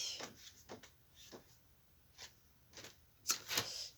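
Paper rustles and crinkles in short bursts spread across the clip, with a sharper, louder crumple near the end; no one speaks.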